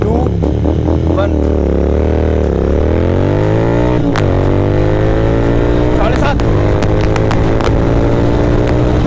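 Royal Enfield GT 650 motorcycle fitted with a Moto Torque exhaust pulling hard through the gears, a loud, close, deep rumbling roar that rises in pitch, drops at each shift and climbs again, with people talking over it.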